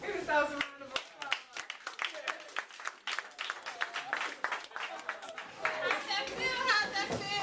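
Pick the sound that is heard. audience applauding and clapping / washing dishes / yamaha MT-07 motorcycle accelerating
audience applauding and clapping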